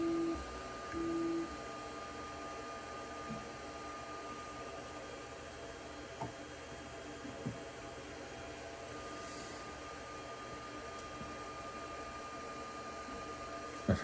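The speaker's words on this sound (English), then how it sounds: "Okay, now it's actually printing." A Sovol SV08 3D printer runs mid-print with a quiet, steady fan hum and faint whirring, broken by a few soft clicks and ticks from moving parts, heard alone at low level.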